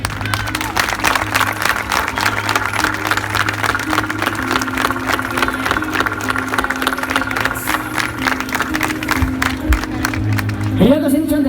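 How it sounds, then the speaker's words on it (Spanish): A festival crowd at the San Froilán fiestas in Lugo gives a sustained ovation, dense clapping running evenly throughout, with a steady tonal hum beneath and a voice breaking in at the very end. "estoy pidiendo una ovación importante"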